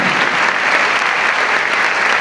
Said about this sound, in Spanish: Vamos a darle un fuerte aplauso al Señor en esta mañana.